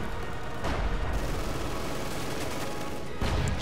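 Heavy machine gun fire in a Company of Heroes 2 battle at the Poznań citadel, heard as a dense, steady rattle of fire with two louder bursts near the start and end.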